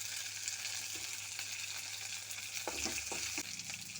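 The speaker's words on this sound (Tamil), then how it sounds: "இப்போ நல்லா வெங்காயம் வதங்கிருச்சு, அது பூண்டை சேர்த்துக்கலாம்" Onion and garlic sizzle steadily in a pan, a soft continuous hiss with a few light stirring scrapes toward the end, heard alone with no talking.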